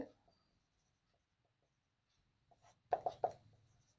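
A pen writes a math solution by hand on paper, with faint scratching at first, then a few quick, louder strokes near the end, close and quiet.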